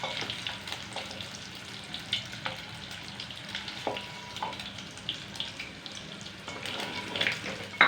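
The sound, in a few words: lightly frying potatoes in a pan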